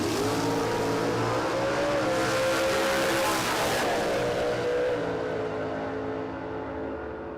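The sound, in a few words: drag racing car engine revving at Warwick Dragway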